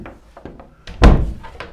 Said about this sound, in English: Shut the door, make sure it's secure.